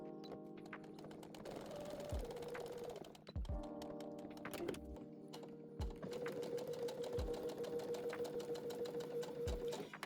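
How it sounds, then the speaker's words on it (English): Sewing machine back stitching a self-binding baby blanket, bursts of rapid mechanical needle chatter with brief pauses and soft thunks between runs, close and clear. "I'm going to back stitch at that marking"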